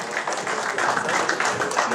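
An audience applauds at a talk on labor regulations, dense continuous clapping at moderate volume, with no one speaking over it.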